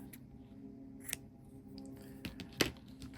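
Scissors snip a yarn tail after knooking, a few quiet close clicks and one sharper cut near the end over soft room tone.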